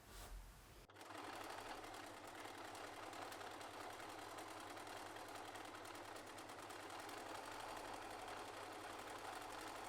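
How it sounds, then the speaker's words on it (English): A sewing machine runs steadily while embroidering fabric, starting after a brief pause and settling into a continuous, even, fast mechanical hum with a fine rhythmic stitching texture, close and moderately quiet. "I'm going to embroider this"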